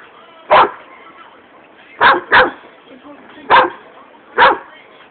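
A pitbull barks at a cat, five sharp, loud barks with one quick pair in the middle, separated by quiet gaps, with faint background noise between them.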